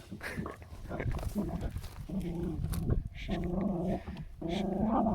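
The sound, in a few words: dog growling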